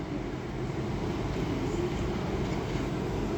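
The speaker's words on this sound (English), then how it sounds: "And now coming in is another LNER Azuma running from, I think it's Leeds to London King's Cross." LNER Azuma train pulling into Doncaster station, a steady low rumble and rolling wheel noise that holds evenly throughout without a clear rise or fade.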